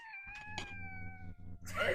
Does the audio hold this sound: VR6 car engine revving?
no